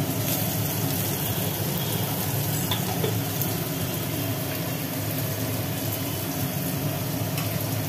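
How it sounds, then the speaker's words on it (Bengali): Bitter gourd slices drop into hot oil in a wok and fry with a steady, dense sizzle that holds at an even level throughout, close and loud with no talking over it. "এবার তেলের মধ্যে পড়ে গেল উচ্ছে।"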